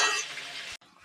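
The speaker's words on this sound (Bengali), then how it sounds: "এটা একটু ভেজে নেবো আমি" Bele fish sizzles loudly in hot oil in a pan, a dense close hiss that cuts off abruptly near the end, followed by a quieter faint sizzle.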